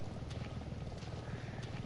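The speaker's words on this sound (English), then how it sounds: "I hear helicopters." A steady low rotor thrum of helicopters in the video game Resident Evil 7 on PS4 drones continuously at moderate distance, faint and even in level.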